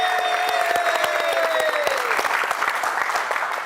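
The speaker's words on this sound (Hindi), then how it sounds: "तो जोरदार तालियां हो जाए हमारे गुरु के लिए।" Seminar audience at a 22nd anniversary event claps loudly for their guru, a thick continuous burst of hand claps with a sustained tone ringing over it early on.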